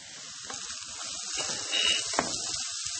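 Onion, carrot and celery stir-fried in a pan with browning beef give off a soft, steady hiss and sizzle, close by and fairly quiet, with a few faint clinks.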